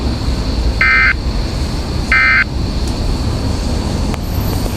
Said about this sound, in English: Ce message est destiné à tester les fonctions d'activation d'alarme des récepteurs Radio Météo.